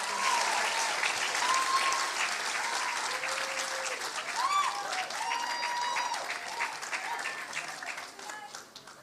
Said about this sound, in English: Please give a big round of applause for our school valedictorian